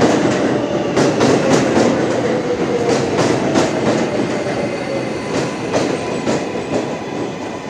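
A subway train in Queens, New York City, arrives close by with rhythmic clicking of wheels over rail joints, a loud, continuous rolling roar with periodic metallic clacks.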